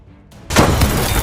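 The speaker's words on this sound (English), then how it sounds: "two massive cannons emerge from the buildings and blast Hulk where he stands" Two massive cannons blast Hulk in a city in a film action scene: quiet low rumble, then an abrupt, loud booming blast that sustains as a dense roaring wash.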